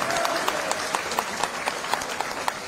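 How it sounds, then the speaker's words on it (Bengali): A large crowd at a BNP political rally claps loudly and steadily, forming a dense wash of applause with a faint voice beneath. "তারেক রহমান সাহেবকে একটা ধন্যবাদ দেন জোরে হাততালি দিয়ে।"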